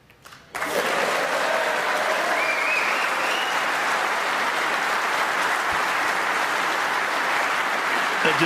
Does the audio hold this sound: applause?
yes